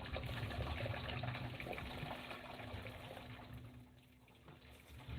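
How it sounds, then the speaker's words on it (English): Whey from homemade cottage cheese pours steadily into a bowl, a close, continuous watery rush that tapers slightly before surging again at the end, with no talking. "I don't know if all the whey is going to fit in that bowl."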